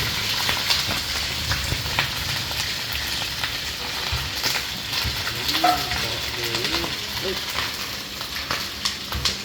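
Food frying in hot oil with steady sizzling and spattering pops throughout, close and loud, while a person talks over it.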